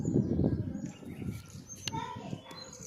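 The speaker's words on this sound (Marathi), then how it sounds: "नैसर्गिक आवाज पक्ष्यांचा बघा" Birds call with short chirps and whistles near old rock-cut caves in the Nashik hills, thin and moderately distant, while a voice talks low beneath them at the start.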